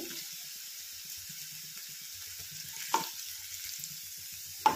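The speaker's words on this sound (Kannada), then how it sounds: "ಈಗ ಈರುಳ್ಳಿ ಚಂದ ಫ್ರೈ ಆಗ್ಯಾವ ನೋಡ್ರಿ" Onions fry quietly with cumin, turmeric and mustard seeds under a soft, steady hiss. Faint low scrapes from stirring come through, and a couple of sharp clinks stand out near the middle and at the end.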